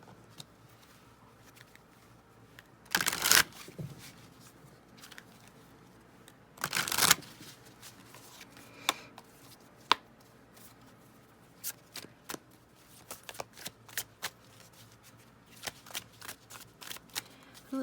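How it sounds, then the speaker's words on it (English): Tarot cards are shuffled in two loud riffling bursts, followed by softer scattered taps and flicks as the cards are handled and laid out, close and quiet otherwise, with no talking. "So let's get some tarot cards on this."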